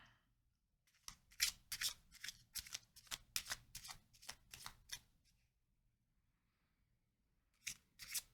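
A small deck of playing cards being shuffled up close, a run of about a dozen quick crisp riffle-like snaps over four seconds, then silence and two more brief card flicks at the end.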